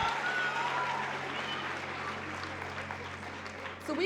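An audience at a keynote address by a Black scholar breaks into sustained loud clapping and cheering that fills the hall as a continuous wash of applause for several seconds.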